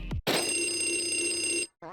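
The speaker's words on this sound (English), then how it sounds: "I love the "hello" line from Luigi when he answers the phone" A telephone ringing in the Luigi's Mansion video game: one sustained, bright electronic bell ring lasting about a second and a half, close and loud, with short clipped sounds just before and after.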